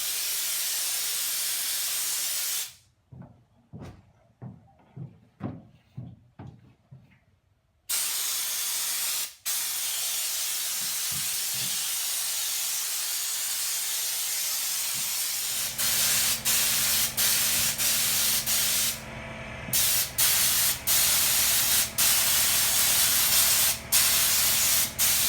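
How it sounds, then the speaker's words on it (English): Loud, continuous hiss of a spray gun spraying primer on a truck, running for long stretches, broken by a short pause with faint clicks, then resuming with intermittent stops. "All we're gonna do now is just spray so we can even it out with the rest."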